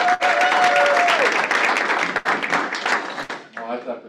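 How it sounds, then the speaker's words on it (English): People at a team meeting give a round of applause, dense clapping that starts loud and gradually thins out, with a voice speaking over it near the start and again at the end. "let's give Karina a round of applause."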